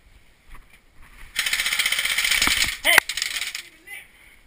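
Airsoft BBs ricochet during a game, producing a dense, rapid rattle of small impact clicks for several seconds, with a sharp metallic ping near the end. Voices are faint in the background.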